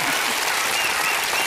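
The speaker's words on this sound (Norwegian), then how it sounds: "Stor applaus til Ingrid Gjessingla." A studio audience at a Norwegian TV game show breaks into loud, dense applause, a continuous wash of many hands clapping close and strong throughout.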